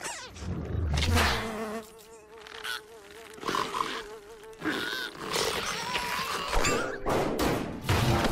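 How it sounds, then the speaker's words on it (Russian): Cartoon fly buzzing loudly and continuously, its whine weaving up and down in pitch with a few thuds mixed in and no talking. "Муха."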